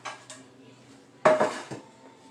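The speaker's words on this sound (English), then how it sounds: "I'm going to go ahead and add it to the pan." Chocolate chip bar batter made with cake mix being scraped into a baking pan, with soft clatters of a utensil and a louder clanking knock of metal on the pan near the middle, close and without talk.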